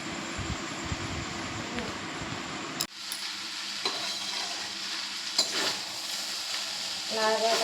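Chowmein is tossed in an electric kadai cooker: a steady frying hiss under repeated utensil scrapes and light metallic taps, with a sudden drop in the background noise partway through.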